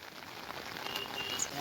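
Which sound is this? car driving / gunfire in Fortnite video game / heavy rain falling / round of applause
heavy rain falling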